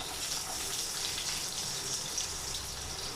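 Garlic, dried chili and onion fry in a pan for a sweet pumpkin mash, giving a soft, steady, even sizzle that stays faint and uninterrupted, with no voices.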